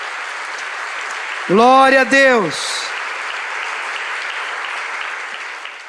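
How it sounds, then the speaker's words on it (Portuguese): A church congregation applauds steadily throughout, with a voice briefly praising God over the clapping partway through. "Vamos aplaudir o nosso Senhor"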